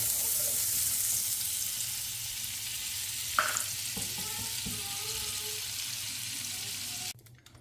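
Butter poured over a homemade fillet iskender kebab with tomato paste sauce gives a steady, moderate sizzle, with a few small clinks and splashes partway through, before the sound cuts off near the end.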